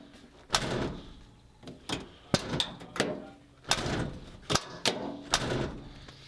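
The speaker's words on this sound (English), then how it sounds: "I used to have to shut this door pretty hard to get it to close." The door of a 1977 Ford F250 pickup truck is shut again and again, giving about nine sharp, loud metallic slams at irregular intervals with quiet gaps between.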